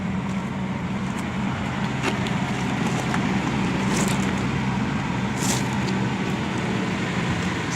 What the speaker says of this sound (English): Sounds like a pretty smooth running truck though for how kind of condition it's in.